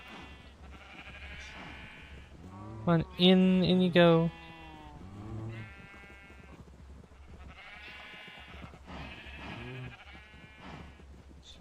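Sheep in a modded Minecraft game let out a loud, sharp bleat partway through, with a shorter one after it, while a person keeps talking over the game sounds.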